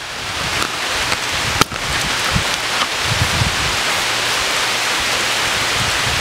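Heavy rain pours down in a steady, dense hiss that fills the whole clip, with a sharp knock partway through and a few faint low thumps underneath.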